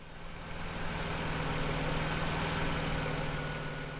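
A Jaguar X300 XJR6 engine runs after a timing belt bracket installation, a steady close idle with a low rhythmic throb that swells in the first half-second and then holds constant, no talking.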